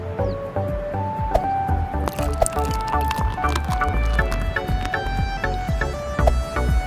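Cartoon drinking effect for a thirsty Pokemon comic character gulping water: a steady run of wet squishy gulps and drips, close and fairly loud, with no talking.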